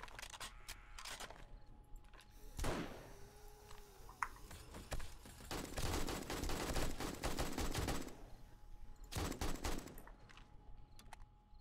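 Guns fire at a zombie in 7 Days to Die, repeated rapid bursts of shots in clustered volleys with pauses between them, moderately loud.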